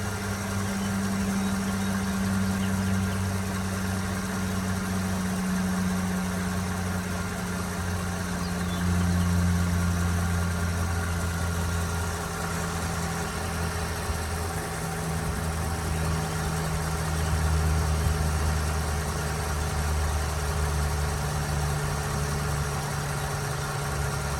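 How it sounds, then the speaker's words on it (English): A 2009 Mercedes-Benz CL 550 4Matic AMG coupe engine idles steadily with a deep, even hum and slight rhythmic pulsing, heard alone and close for the full stretch. "let you take a listen to the engine for about 30 seconds"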